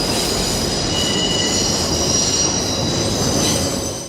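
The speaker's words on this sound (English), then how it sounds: "We hear a distant subway rumble growing louder." A subway train in the Godfather restaurant scene rumbles and squeals on its rails, a dense, continuous roar with high metallic screeching wheels. It sits loud and steady throughout, then eases slightly at the very end.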